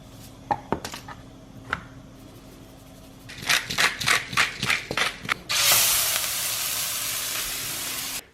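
A steak hits a hot pan with a sudden loud, steady sizzle that carries on to the end. It follows a series of sharp clacks and rustling handling noises close by.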